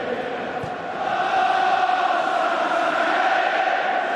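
Football stadium crowd at a 2008-09 Premier League match between Liverpool and Tottenham, applauding and cheering as Liverpool's Sami Hyypiä departs, a steady dense roar of clapping that swells after a second and holds loud throughout.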